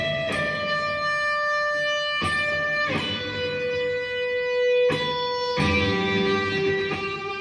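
Electric guitar runs through a Triangle Big Muff fuzz with sustain fully up and a turbo distortion pedal, giving thick, sustained distorted chords struck about five times in a loose rhythm, close and loud with no voices.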